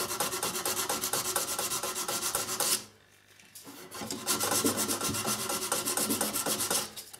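Guitar frets rubbed back and forth with 400 grit sandpaper during a guitar restoration, giving a fast, continuous rasping scrub, close and steady, with one short pause before the sanding resumes.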